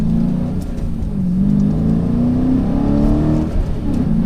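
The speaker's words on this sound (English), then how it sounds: "I'm gonna do another small acceleration." A 2018 Dodge Challenger T/A 392 V8 accelerating gently, its steady mid-low engine drone rising slightly in pitch through the gears, heard from inside the car with no talking.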